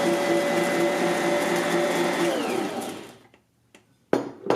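Bosch Universal Plus stand mixer whirring loudly as it mixes dough, a steady motor whine for about three seconds that cuts off, followed by a brief short pulse.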